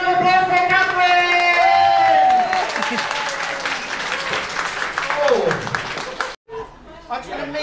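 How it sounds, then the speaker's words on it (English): Audience at a comedy drag show breaks into applause and cheering, with whoops and crowd chatter layered over steady clapping; music plays beneath and the crowd noise fades before a brief pause near the end. "Massive round of applause for Catherine."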